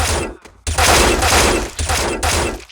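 Rifle bursts from Counter-Strike: Global Offensive, an AK-47 or M4-type weapon firing in short, loud, close volleys, with three dense blasts split by brief gaps.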